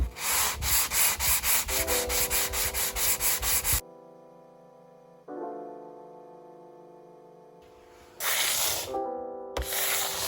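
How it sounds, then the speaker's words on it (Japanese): Putty on damaged wooden flooring is sanded in rapid rhythmic rubbing strokes, close and loud. The sanding stops for a stretch of steady tonal background music, then resumes in two short bursts. "研磨していきます。"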